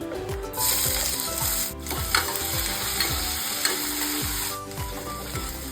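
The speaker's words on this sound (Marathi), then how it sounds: "कांदा टाकून घेऊया." Onion frying in a pan sizzles steadily up close while a utensil scrapes and stirs in a quick repeating rhythm.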